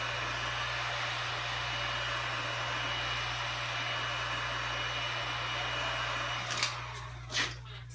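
A heat gun warms old putty on an antique window during restoration, blowing a steady, close airy roar throughout, with a couple of brief scraping or handling knocks near the end.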